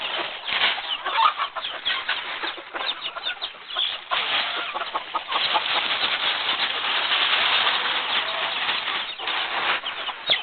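Chickens clucking and scratching close by, with bursts of fluttering wings and rustling over a busy, uneven barnyard din.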